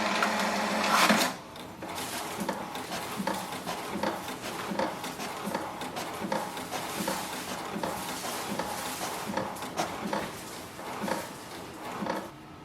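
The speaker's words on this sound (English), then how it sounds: "Wait for the printer to print the alignment page." An HP DeskJet 2955 inkjet printer runs its alignment page, with a rapid chattering of the print head and paper feed in a repeated mechanical rhythm, close and moderately loud, after a brief louder whir at the start.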